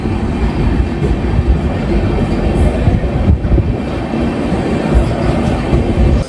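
A KSR Bengaluru–Ernakulam Intercity express train running at speed, a steady loud rumble of wheels and carriage noise filling the whole stretch from a close, onboard position.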